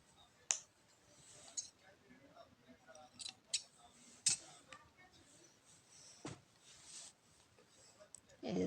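Scissors cutting cloth thread after a knot is tied on a handmade stuffed-cloth strawberry: several crisp, close snips spaced irregularly, with faint handling rustle between them.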